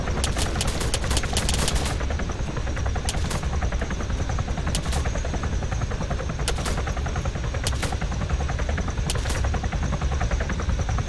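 Sustained automatic gunfire in the game Arma 3, during a shootout inside a bank, rattles densely and loudly throughout, with sharper individual shots cracking out repeatedly over the continuous barrage.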